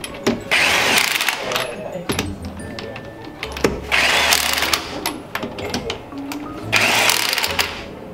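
Bursts from an impact wrench hammer on lug nuts of a Nissan Skyline, several rattling pulses separated by pauses, with people talking nearby in a garage.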